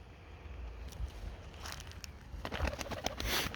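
Pigeons coo softly in low, muffled tones, with scratchy rustling and shuffling close by.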